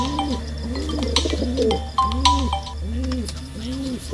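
Pigeons coo in a repeated, rhythmic series of soft, rolling calls close by, with a few faint bird chirps over a low background hum.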